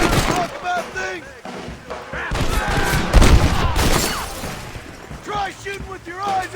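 Dense gunfire in a Red Dead Redemption shootout: overlapping shots and a ragged volley crackle loudly and continuously, with shouting voices mixed in throughout.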